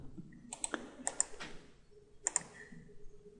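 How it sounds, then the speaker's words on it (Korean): Delete key and other keys pressed on a computer keyboard during CAD software work: a few sharp, quiet clicks in small pairs, spaced out against a faint room hum. "딜리트 키보드 상에 딜리트 키를 눌러서 지웁니다."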